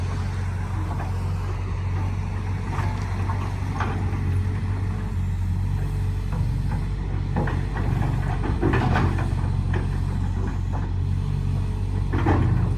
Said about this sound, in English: you can hear that bucket doesn't even have any play in it.